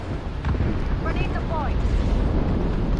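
A grenade blast in the shooter game Apex Legends: a heavy, rumbling low boom that fills the scene and rolls on continuously, with a brief voice cutting in over it.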